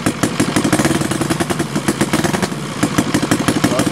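A ROTO 85 FSI two-cylinder four-stroke gasoline RC airplane engine runs steadily and loudly up close, with a fast, even firing pulse and no voices.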